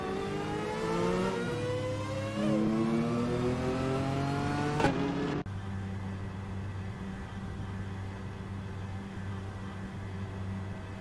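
Race cars in an AI-driven racing video game of Group C cars roar continuously, engine pitches rising and shifting through gears, then a sudden cut to a steadier drone; loud and close with no talking.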